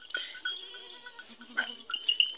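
Desi goats bleat in a series of short, overlapping calls at close range, several animals sounding one after another with brief gaps, no talking over them.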